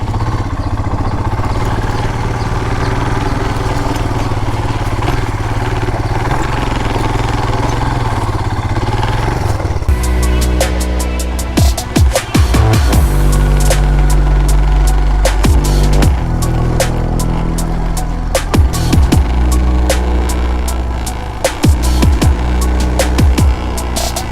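A Royal Enfield Himalayan motorcycle engine pulls hard up a steep, muddy forest trail off-road, a steady loud throbbing drone that turns rougher and choppier midway with rapid uneven pulses and revving as the bike climbs.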